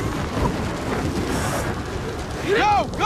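Rain and thunder from a lightning storm in the video game Gears of War 4: a steady, loud hiss of rain with low rumbling throughout, and a brief voice near the end.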